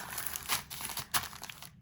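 A plastic packet of beads crinkles close up during unpacking, with short bursts of rustling and crackling that stop abruptly.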